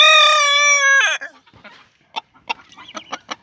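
A Silkie rooster crows loudly and close for about a second, followed by a series of short, separate clucks from Silkie chickens.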